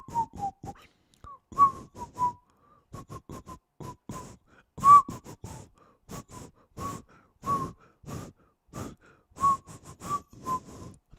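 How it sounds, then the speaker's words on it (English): A person whistles a melody of short, repeated tonal notes in a steady phrasing, close and clear, with brief breaths between phrases and no talking. "a lot of people can whistle, a lot of people can't"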